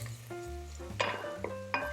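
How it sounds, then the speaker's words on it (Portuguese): Onion and carrot for a classic tomato sauce fry in a pan with a soft, steady sizzle. A few sharp clinks of a utensil stirring against the pan punctuate it, with no talk. "apenas para murchar um pouco a cebola e começar a cozinhar a cenoura"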